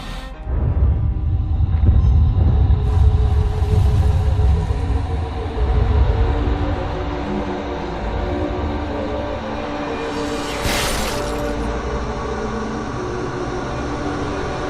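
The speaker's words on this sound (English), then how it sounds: "I must stop this infernal train and the evil force that drives it" Infernal train in the Alice: Madness Returns video game, a heavy continuous rumble with clanking and a brief hissing burst partway through, loud and steady with no talk.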